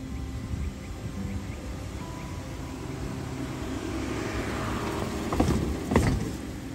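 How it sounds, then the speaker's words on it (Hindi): Spinning brushes of an automatic car wash scrub a car in a steady, close mechanical whir and rumble, building slightly with a couple of louder swishing thumps near the end. "चीज़ जिहड़े ब्रश लगे ने बहुत ज़्यादा फास्ट घूमणगे"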